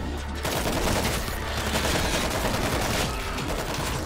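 Dense, continuous automatic gunfire from World War Z on PC, several weapons firing at once in a sustained, loud barrage with hardly a pause.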